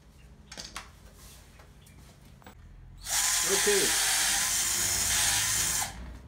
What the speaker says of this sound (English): Drill your hole.